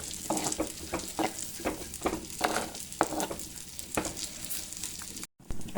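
Ingredients fry in oil over low heat for a fish curry, a soft continuous sizzle broken by rhythmic scraping stirs of a spoon against the pan, close and fairly quiet, with no talk.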